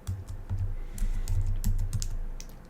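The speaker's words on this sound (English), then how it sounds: "So with this, we can start typing some code." Fast, uneven keystrokes on a computer keyboard while code is typed, close and fairly loud, with clustered clicks and short pauses and no talking.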